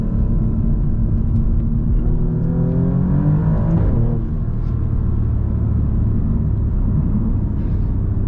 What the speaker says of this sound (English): This exhaust does sound very, very good.